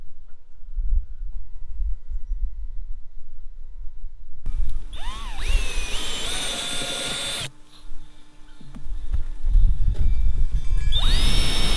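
A power drill with a hex-shank bit whirs loudly in two bursts, drilling a rod holder hole in a boat, with a high motor whine rising as it spins up and cutting off abruptly between runs, after a quiet start.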